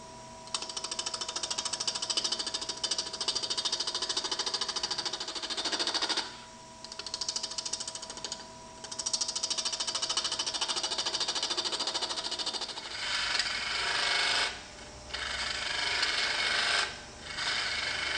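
A wood lathe fitted with an eccentric chuck runs at speed while a tool cuts the spinning workpiece, giving a loud, steady whirring rasp that breaks off briefly several times as the cut is lifted, then resumes.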